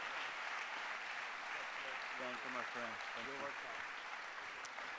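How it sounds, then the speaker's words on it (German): A church audience gives a warm welcoming applause, a steady wash of clapping heard throughout, while someone speaks over it in the middle. "Wir wollen ihn mit einem herzlichen Applaus willkommen heißen"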